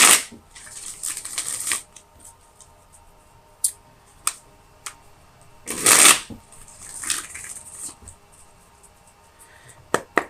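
Tarot cards are shuffled close by in several crisp riffling bursts, one long burst midway, separated by quieter taps and handling sounds.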